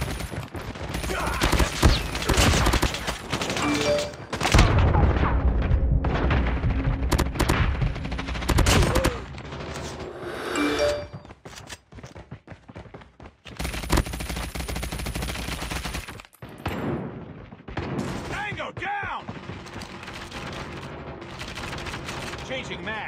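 Rapid automatic gunfire from Call of Duty multiplayer, loud bursts and sustained volleys across the scene with brief lulls, plus game voice callouts over the shooting.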